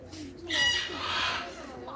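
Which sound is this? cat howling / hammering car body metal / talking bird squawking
talking bird squawking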